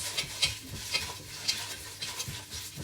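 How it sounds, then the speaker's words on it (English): Whole spices including black cardamom and cumin are stirred in a pot for dum chicken biryani, with a soft sizzle and a rhythmic series of scraping, clinking strokes about every half second. "So we're adding all of that for now and giving it a big mix."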